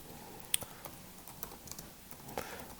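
Keys clatter in sparse, uneven taps on a computer keyboard, a few sharper clicks standing out against a quiet room with no voices.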